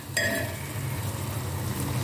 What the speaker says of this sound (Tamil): இது எல்லாம் சேர்ந்து நல்லா வதங்கட்டும் தக்காளியோடு சேர்ந்து